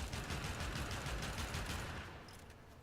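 Rapid, dense bursts of Pyrana Prime shotgun fire in the video game Warframe, heard as a continuous rattling volley of quick shots that thins and fades out after about two seconds, fairly quiet overall.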